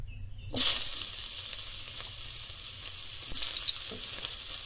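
Ginger added to hot oil in a home kitchen while cooking chicken gravy, a sudden loud sizzle bursting in after quiet and then settling into a steady, bright crackling fry with occasional pops, close by.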